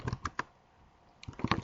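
Short bursts of clicky key presses on a computer keyboard, a few quick taps, a pause, then a denser run of typing, fairly close and alone.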